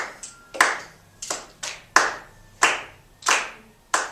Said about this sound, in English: Let's go ahead now and count and clap with it.